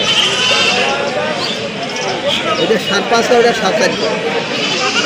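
Native goats at a livestock market in Dimla bleat repeatedly and close by over a busy crowd, with people talking and chattering throughout.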